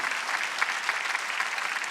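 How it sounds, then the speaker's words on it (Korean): A church congregation claps during a Sunday worship service, a steady, dense round of applause from many hands at a moderate level that continues evenly throughout. "박수로 하나님께요."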